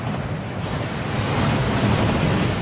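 A waterfall in Hogwarts Legacy roars as a dense, continuous rush of falling water, loud and steady and growing slightly stronger, with no talking over it.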